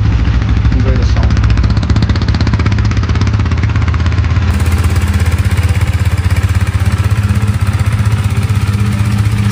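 A KTM Duke 390 BS4 motorcycle with a bent exhaust pipe idles loudly and close after starting, a steady, thumping single-cylinder rumble with a fast, even pulse that runs without a break.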